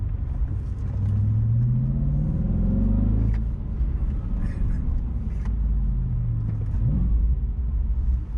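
An Audi RS4 rumbles deep and steady from inside the car on a long road trip. Its engine and exhaust note climb in pitch as it accelerates, ease off, then rise again in a second pull.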